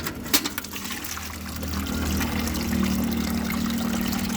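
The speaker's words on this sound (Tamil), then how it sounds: "பாருங்கள், அந்த தண்ணியை வடிகட்டுறோம் பாருங்கள்." Soaked water being strained and poured off for homemade natural plant fertilizer, a steady close trickle and pour of liquid running continuously with a few small splashes near the start.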